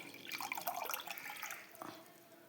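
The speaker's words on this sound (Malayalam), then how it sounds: "അതിൻ്റെ 2 കപ്പ് വെള്ളം ഒഴിക്കണം" Water splashes and gurgles as it is poured into a vessel of curd for buttermilk, a close, bright pouring sound that tapers off after a couple of seconds.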